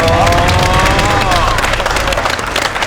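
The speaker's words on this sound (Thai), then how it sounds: "ขอเสียงปรบมือดังๆครับ" An audience applauds in the Iron Chef Thailand studio after a kung fu master from a Chinese temple is introduced. The clapping is a steady, dense wash throughout, with a few voice-like tones threading through early on.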